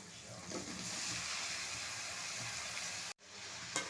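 Bottle gourd pieces hit hot oil with onion and tomato in a frying pan, giving a steady, close sizzling hiss that runs unbroken for several seconds before a brief cut and a soft stir.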